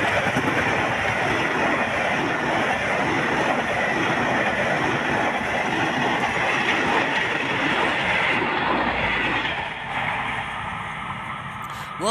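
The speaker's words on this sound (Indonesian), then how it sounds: "kereta api gaya baru Malam Selatan, teman-teman, dibawa oleh lokomotif CC203 dari arah timur menuju ke arah barat" A Gaya Baru Malam Selatan passenger train hauled by a CC203 locomotive runs east to west, a loud, steady roar of wheels and rail noise that fills the whole stretch and eases slightly near the end.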